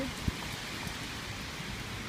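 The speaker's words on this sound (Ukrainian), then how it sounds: "О, блін, дощ, не вийдемо туди" Rain falls outdoors as a soft, steady hiss heard from indoors, faint and even, with one brief dull knock near the start.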